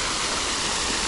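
Fountain water splashes steadily at close range, a dense continuous rush with no pauses and no voices.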